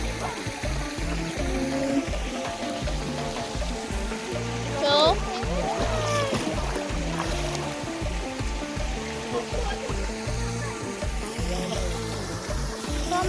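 Cold mountain stream water flowing at Neboda in Sri Lanka, a steady rushing wash up close with a dense, continuous texture, joined by brief chirping or squeaking sounds midway.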